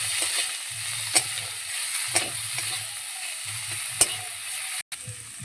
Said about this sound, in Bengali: এবার পটলের মধ্যে থেকে যে শাঁসটা বের করেছিলাম সেটা মশলার মধ্যে দিয়ে দিচ্ছি। মশলার সঙ্গে মিশিয়ে নেব।